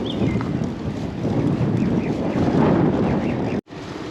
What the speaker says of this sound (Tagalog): Pasalungat yung ihip ng hangin.